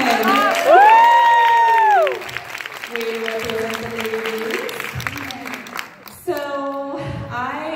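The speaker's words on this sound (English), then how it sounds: "please stand up so we can give you a round of applause" Audience applause at a breakout event honoring an active duty service member, with cheering and whoops over clapping, and loud vocal shouts and a voice rising above the crowd at points.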